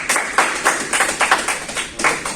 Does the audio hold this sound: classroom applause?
yes